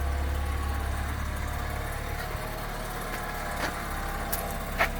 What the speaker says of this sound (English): with the engine on